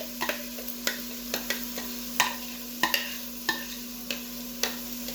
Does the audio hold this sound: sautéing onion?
yes